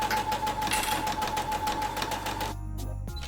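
A sewing machine runs steadily, stitching fabric for a Christmas stocking, its rapid even needle rhythm close and clear before it stops abruptly near the end.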